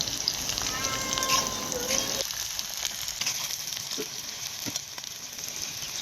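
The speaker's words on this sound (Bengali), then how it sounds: "পেঁয়াজ ভাজা আমার হয়ে গেছে প্রায়" Chopped onions and green chilies frying in oil in a kadai, a continuous bright sizzle with occasional stirring scrapes, close and steady throughout.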